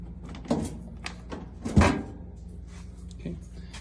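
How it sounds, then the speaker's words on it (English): The service panel of a Fibropool heat pump, held by four screws, being handled and opened: a few dull metallic thunks and knocks, one louder clunk, close by under low background noise. "then we open the service panel, which has 4 screws"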